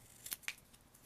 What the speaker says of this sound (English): I took my scissors, and I just cut a triangle off like that